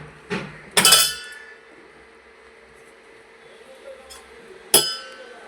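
A spoon strikes a cup while tea is being made, giving a few sharp, bright clinks: one soft tap, then a louder ringing strike, a faint tick, and a final crisp clink, close by with a quiet room between.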